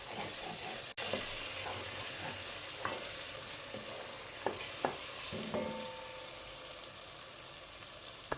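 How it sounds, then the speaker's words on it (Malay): Curry spice paste with chilli sizzles and crackles steadily as it fries in oil for egg curry, with occasional clinks and scrapes of a spoon stirring the pan close by; no one speaks. "Kita masak bahan-bahan ni sampai dia pecah minyak."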